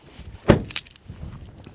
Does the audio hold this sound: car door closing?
yes